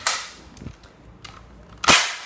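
A Nerf X-Shot toy blaster fires three sharp, snappy pops, loud and close, with short quiet gaps and fainter clicks between shots.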